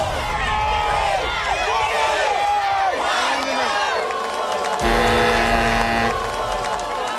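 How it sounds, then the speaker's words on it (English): Crowd at a Spartan obstacle race in Australia chanting and counting down together, loud and energetic, with shouting and cheering layered over steady outdoor noise. "You can hear the crowd counting it down."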